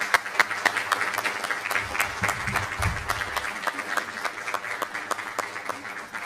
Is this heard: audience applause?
yes